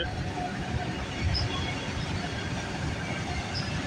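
An auto rack freight train rolls past at night, a steady broad rumble of wheels and cars holding at an even level throughout, with no talking.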